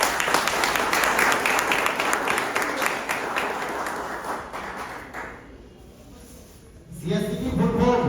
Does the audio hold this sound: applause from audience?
yes